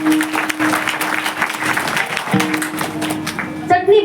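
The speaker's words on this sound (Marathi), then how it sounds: "महाराज ज्या ज्या देतात ना त्या महिलांसाठी जोरदार टाळी वाजवा" An audience at a Marathi kirtan bursts into steady applause, clapping spread through the hall beneath a sustained tone and a speaking voice.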